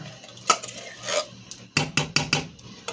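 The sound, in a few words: tablespoon scooping refried beans out of a can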